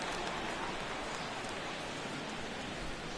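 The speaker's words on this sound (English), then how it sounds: "Well, Matt, the rain is really starting to come down" Heavy rain pours at a ballpark in a baseball video game, a dense, even hiss of falling water that stays steady and fairly soft throughout with no other sounds.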